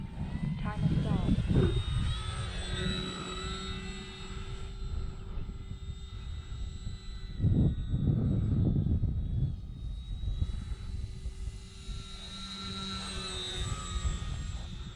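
An eFlite Pitts S-1S electric RC model airplane, 850mm span on a 3s 2200 battery, whines overhead, its motor pitch rising and falling as it passes, under intermittent talk from the pilot.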